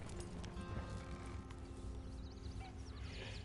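A horse in Red Dead Redemption 2 clip-clops along at a steady pace, hoofbeats mixed with game ambience and faint whinnying, heard fairly close amid a dense background.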